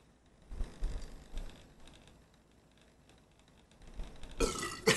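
Burps after chugging a carbonated drink, with a couple of low belches early on and a louder, rougher burst at the very end, heard close with no talking.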